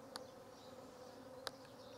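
Honey bees buzzing inside a weak hive during a Varroa mite treatment, a steady low hum from many bees with a couple of sharp clicks, fairly faint and with no talking.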